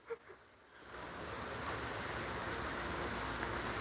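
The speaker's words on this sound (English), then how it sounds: "Lake water." Lake water waves wash in a steady broad rush, rising from a faint start into continuous surf-like noise with some wind buffeting, moderately quiet and unbroken.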